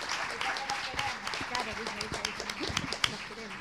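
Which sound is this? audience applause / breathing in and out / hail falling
audience applause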